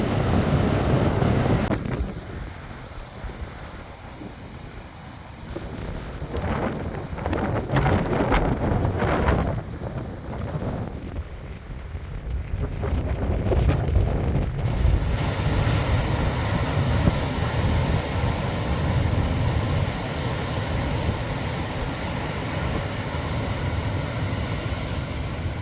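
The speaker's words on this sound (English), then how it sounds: "It's very windy." Strong wind buffets the microphone at a Baja California beach, a loud, continuous rumbling roar with surf-like washes that dips briefly and then surges again, with no voices over it.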